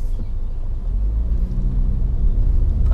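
A Toyota C-HR drives in sport mode, heard from inside as a deep, steady engine and road rumble that swells slightly toward the end, with no talking.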